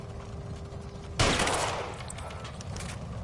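A single sudden loud gunshot in the L.A. Noire video game, a sharp blast that decays into a fading echo over steady background hum, no talk.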